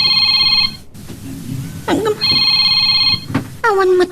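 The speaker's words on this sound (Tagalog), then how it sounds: "At da umawawag iti cellphone ko." Cellphone ringing with an electronic tone in bursts that repeat, loud and near, with voices and speech sounds between the rings.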